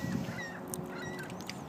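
Seagulls calling near the water, a few harsh squawking cries rising over steady outdoor background noise, with no talking.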